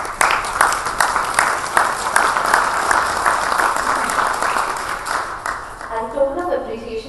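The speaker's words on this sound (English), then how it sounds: "So a round of applause for all the speakers on dais, please." Audience applause for the speakers on the dais at an energy storage policy conference in India, a dense, steady clapping wash that runs for several seconds and thins out near the end.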